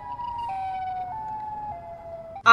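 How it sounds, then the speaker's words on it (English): A steady emergency siren wails in stepped tones, holding each pitch briefly before dropping to the next, moderately loud and continuous, ending with a sudden louder burst. "I'm gonna have to say that was potentially just a siren."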